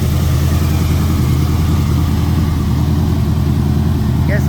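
A cammed 1977 Chevy K10 pickup fed from a boat fuel tank idles loud and close, its lumpy low rumble holding steady throughout with no break.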